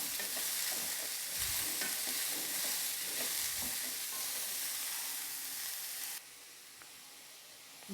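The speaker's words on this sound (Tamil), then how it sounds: "காயோட பச்சை வாசனை போகிற வரைக்கும் நல்லா கிளறி விடணும்." Turnip poriyal with salt and turmeric fries in a pan, a loud constant sizzle broken by a few scraping stirs, then the hiss drops abruptly quieter near the end.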